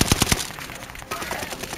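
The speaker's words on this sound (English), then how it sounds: "Where are they shooting from?" Rapid automatic gunfire in the video game Call of Duty Warzone, a few loud close bursts at the start followed by quieter, more distant shots under game ambience.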